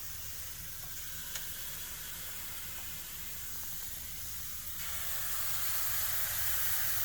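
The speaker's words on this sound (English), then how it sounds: "Oh, listen to that sizzle." Continuous crackling sizzle of buttermilk pancake batter frying on a hot griddle, steady and close, growing slightly louder toward the end.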